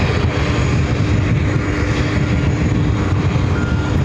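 Boeing 777-300ER airliner taking off at JFK, a loud continuous jet engine roar holding steady throughout, no voices.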